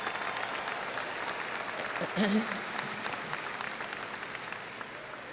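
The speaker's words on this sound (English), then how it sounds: "Give yourselves a round of applause." A high school graduation crowd applauds in a large hall, a dense wash of clapping that stays even throughout, with a short voice or shout rising briefly near the middle.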